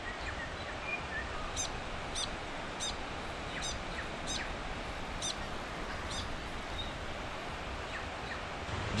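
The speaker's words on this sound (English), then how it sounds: "I've got birds, I can hear some kias calling." Kea parrots call in the New Zealand bush, faint and distant: a handful of short, high, repeated calls spaced across the clip over a steady wash of rustling background noise.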